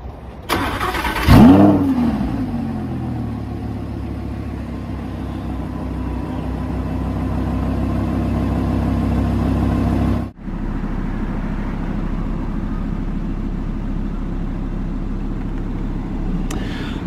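2017 Audi R8 5.2 V10 Plus starts up with a sharp cranking burst and a loud rising rev that flares up, then settles into a steady, rumbling idle, with a brief dip midway before idling resumes.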